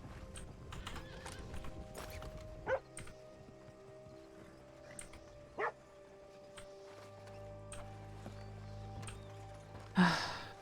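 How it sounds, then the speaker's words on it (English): Horses in Red Dead Redemption 2 (RedM) roleplay, hooves clip-clopping steadily with occasional neighs and a few dog barks, sharp thuds punctuating the mid-distance movement, no talk over it. "That's a lot of horses."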